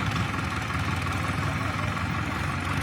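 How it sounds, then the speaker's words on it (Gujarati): A loader's engine runs steadily nearby, a continuous low idling drone with no talk over it. "પાછળ લોડર આવી ગયું છે"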